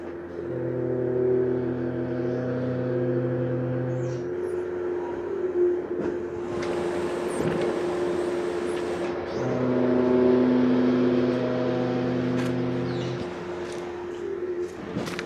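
Scania V8 580 hp truck engine started and left running: a steady, moderately loud idle drone with a deep, even hum that swells and settles twice.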